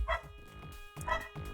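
Digitized dog barks from a 1990 DOS space murder-investigation game, two short, synthetic yelps about a second apart with faint tonal hum between them.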